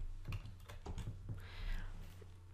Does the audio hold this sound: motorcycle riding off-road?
no